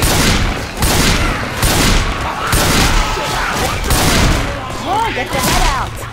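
A video game gun loaded with incendiary ammo fires in loud, rhythmic bursts about once a second, with a faint voice under the shots near the end.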